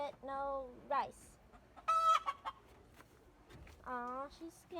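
A pet hen clucks after laying her third egg, giving several loud, drawn-out squawking calls in separate bursts with quiet gaps between them, close to the listener.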